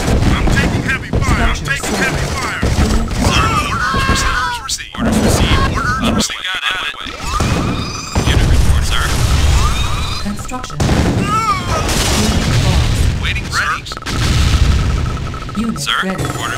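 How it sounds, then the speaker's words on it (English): Gunfire and artillery in a real-time strategy game, a 2v2 match on the Terrace map, with bursts of shots and booming explosions over and over, under frequent short radio-style unit voice replies. "Base under attack. I'm taking heavy fire."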